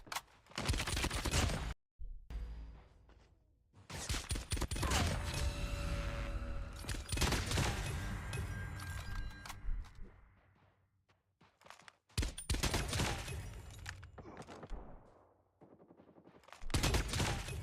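Rapid bursts of gunfire from the mobile shooter Call of Duty Mobile, loud and close, coming in repeated volleys separated by short gaps, with mechanical clicks between shots and no talking over them.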